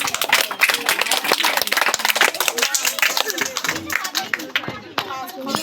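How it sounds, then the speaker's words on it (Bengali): Loud, dense applause rises from a crowd at a children's drawing competition prize-giving, continuous clapping close by with voices talking underneath. "স্বস্তিকার জন্য একটা জোরে হাততালি"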